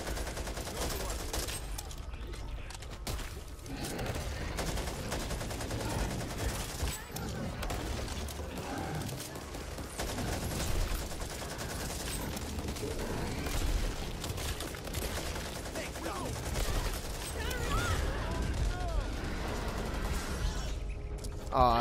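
Gunfire in the video game Back 4 Blood, including an AK rifle, keeps up a dense, continuous mix of rapid shots, mechanical clatter and occasional booms, with players talking over it throughout.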